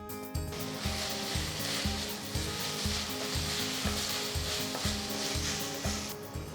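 Ginger garlic paste frying with golden-brown onions in a kadai for mushroom gravy, a loud, continuous sizzle with steady rhythmic scraping of a spatula, nearby and without talk.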